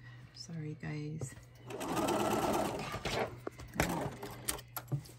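A sewing machine stitches a strip for a cross stitch pillow, a steady whirring run of close rapid stitching in the middle with shorter bursts around it, while someone talks over parts of it.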